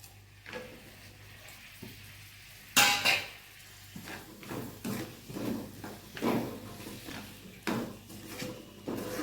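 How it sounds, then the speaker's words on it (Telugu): Dried fish being stirred into hot oil in a pan for a mango, dried fish and onion curry, with repeated scraping and clinking strokes of a spoon against the pan over a low sizzle, close and moderately loud, no talking. "చూడండి ఫ్రెండ్స్ ఎండు చేపలు ఇలా ఆయిల్లో కలుపుకున్న తర్వాత"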